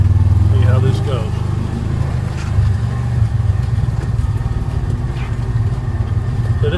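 A side-by-side utility vehicle crawls along in low gear across rural Arkansas land, its engine giving a loud, continuous low rumble close by that stays fairly steady, with faint knocks and rattles throughout.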